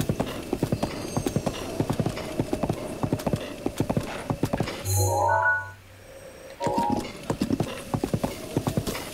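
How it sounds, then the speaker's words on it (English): Horses gallop with rapid, steady hoofbeats and neigh at one point, their clip-clop breaking off midway before resuming, in The Legend of Zelda: Breath of the Wild. "Now your horses can be free."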